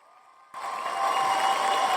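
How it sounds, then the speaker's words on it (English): Canned cheering sound effect on a podcast kicks in abruptly after half a second, a crowd cheering and applauding that builds slightly and holds steady. "Get some cheering going."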